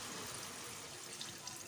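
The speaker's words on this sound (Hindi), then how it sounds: "एक गिलास मैंने पानी शामिल किया है" A glass of water is poured into a cooking pot holding chicken and soaked lentils before pressure cooking. It makes a faint, brief trickling splash with no talking.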